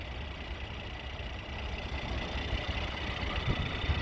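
2014 Mercedes-Benz GLE 43 AMG engine idling smoothly, a steady, low, quiet hum with no change in pitch, heard alone.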